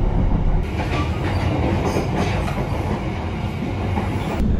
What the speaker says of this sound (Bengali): আসুন একবার দেখি ট্রেনের ডাইনিং কার